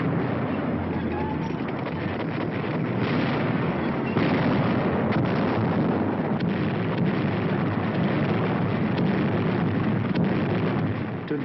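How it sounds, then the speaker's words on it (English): Heavy WWII bombing raid on industrial targets, with a dense, continuous roar of explosions and aircraft rumbling throughout, on muffled, band-limited old newsreel sound. "heavy bombers roar out over the heads of the advancing ground forces, blasting away systematically at vital industrial"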